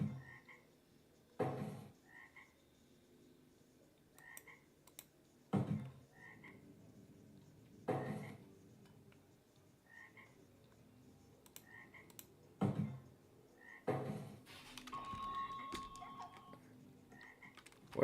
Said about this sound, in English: Where is that frog sound coming from?